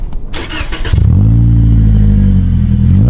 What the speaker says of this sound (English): TRD exhaust. We're going to fire it up and let you listen to it